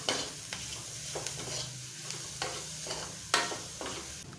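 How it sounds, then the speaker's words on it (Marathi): Mashed potato thecha mixture being stirred in a pan, a spoon scraping in repeated strokes about every second over a soft low sizzle, close and alone. "आता हे छान असं मिक्स करून घेऊया"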